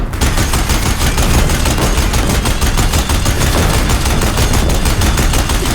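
Deathbringer machines in Horizon Zero Dawn Remastered fire their guns in a loud, relentless stream of rapid shots that continues without pause the whole time.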